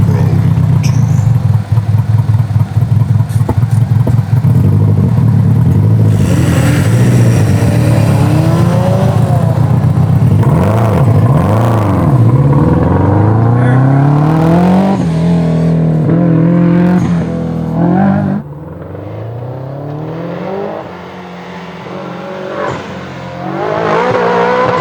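A Suzuki Samurai race truck and a 400hp Subaru Legacy drag race, loud engines revving hard and climbing through gears, then fading slightly toward the end.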